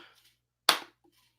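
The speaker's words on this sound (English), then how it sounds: "I know you're clapping, G-Funk" Hand clap, a single sharp smack standing out alone in near silence between faint traces of speech.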